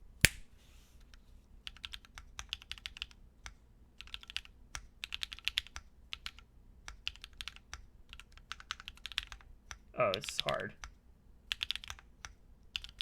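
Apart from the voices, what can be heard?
typing on Prisma prototype mechanical keyboard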